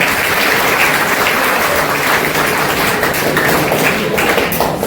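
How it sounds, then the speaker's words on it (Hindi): Loud, steady applause from a school audience of students clapping together for a classmate during a motivational session, dense and continuous throughout. "इसके लिए जोरदार तालियां होनी चाहिए।"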